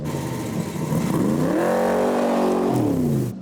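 A hand-built custom 8.2 litre 700 horsepower V8 car engine at a festival of speed revs up loud and close, its deep rumble climbing in pitch and then easing back down.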